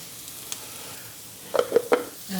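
Pumpkin being stirred in a hot cast iron pan, with a faint background sizzle and a few sharp scraping clatters of the spoon against the iron, the stirring strokes bunched near the end.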